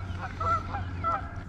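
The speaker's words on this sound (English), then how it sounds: "We got these loudmouth geese over here." Geese honk in loud, brassy bursts at a lakeside fishing spot, two main calls about half a second apart, close by over a low outdoor rumble.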